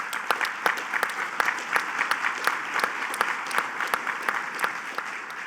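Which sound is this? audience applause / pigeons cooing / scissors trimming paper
audience applause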